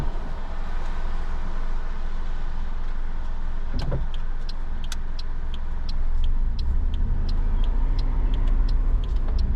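Car pulling away during a driving test in pouring rain, a steady engine hum and road rumble under dense rain noise, with a clunk midway and a run of regular ticking clicks, likely an indicator.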